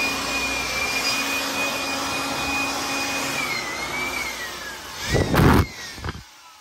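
An air blower clearing fine rust and dust from a jeep before painting makes a loud, steady whooshing roar with a thin high whine, then gives a few sharper bursts before cutting off near the end.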